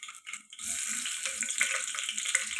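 Green chillies tipped into hot oil in a pan for a mutton curry, bursting into a loud, steady sizzle that holds for a couple of seconds after a brief quiet start, with soft clinks of a utensil underneath.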